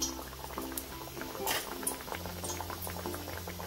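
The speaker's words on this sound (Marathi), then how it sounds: "आता आपल्याला तळून घ्यायची आहेत व्यवस्थित" Potato bhaji in batter frying in hot oil, giving a continuous, fairly faint bubbling sizzle with a few sharper pops over a steady low hum.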